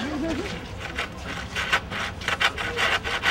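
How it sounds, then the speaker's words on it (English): A hand saw cuts a wooden board at a Home Depot community event, rasping strokes in an uneven rhythm that grow stronger and quicker toward the end, with a voice briefly heard near the start. "let's cut that board"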